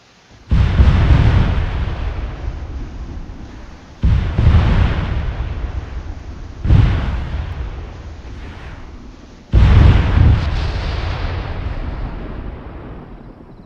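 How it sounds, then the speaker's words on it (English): Four heavy explosions from a helicopter attack run in the video game Arma 3, each a sudden loud boom followed by a long rumbling decay, spaced a few seconds apart with no talk. "he's going to start shooting from his helicopter. Blowing everything up that he needed to."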